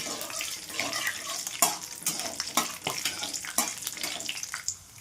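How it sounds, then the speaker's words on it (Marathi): Dry fruits frying in a pan for carrot halwa, a moderate sizzle with bubbly, watery crackle and stirring clatters at irregular intervals. "ड्रायफ्रूट तळून घेणार आधी, नंतर कट करू."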